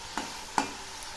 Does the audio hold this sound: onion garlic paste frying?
yes